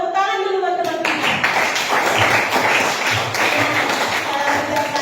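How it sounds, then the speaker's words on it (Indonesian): Classmates in a classroom clap together in a dense, sustained round of applause that starts suddenly and continues steadily at close range, with a few children's voices mixed in. "Tepuk tangan dulu buat teman-teman."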